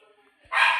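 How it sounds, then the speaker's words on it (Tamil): A puppy in a Minecraft game lets out a single short, sharp bark that bursts in suddenly and close after a quiet moment of faint background tones. "என் நாய்க்குட்டி வேறு கத்திக்கிட்டே இருக்கே."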